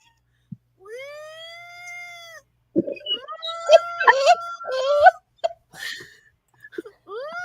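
A high, whining wheeze rises and falls in drawn-out tones, like a thin siren, with a pause midway and a few short squeaky bursts toward the end.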